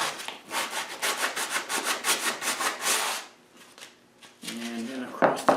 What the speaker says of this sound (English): put some sandpaper down the kerf just to get rid of the sawdust